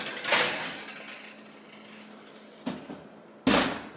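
Pizza going into a home oven: a clattering metal clunk as a tray or rack shifts, a pause, then another clack and a final firm bang as the oven door shuts, close and fairly quiet.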